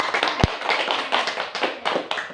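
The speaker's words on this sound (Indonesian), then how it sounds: "beri tepuk tangan" A classroom of students claps together during a mathematics lesson, a brisk, rhythmic burst of handclaps with a few sharper taps standing out, close and fairly loud.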